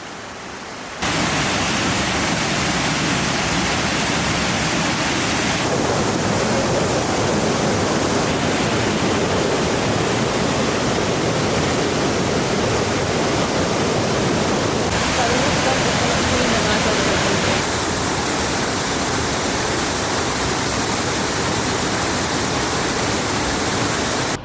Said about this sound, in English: Bit of river crossing action.